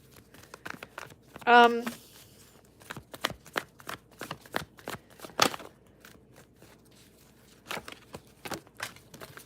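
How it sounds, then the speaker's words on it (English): Tarot cards are shuffled in quick, crisp bursts of riffling and flicking, with a brief voice near the start and scattered soft handling noises throughout. "I'm shuffling at the same time"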